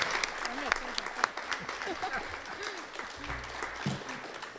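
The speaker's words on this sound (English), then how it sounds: "Let's give them a round of applause to thank them." Audience applause at a city council candidates forum, moderately quiet and spread through the room, heard under a voice and some low rumbling movement.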